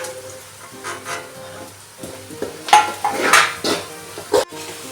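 Flattened rice (avalakki) is dry-fried in a pan without oil, heard as scattered scraping, stirring and clinking of a utensil against the pan with soft rustling between strokes.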